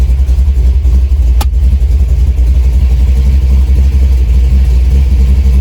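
Loud, close idle of a 1971 Chevrolet El Camino SS engine in drive, with a new TH350 transmission and TCI converter fitted, holding a steady low rumbling pulse with one brief click.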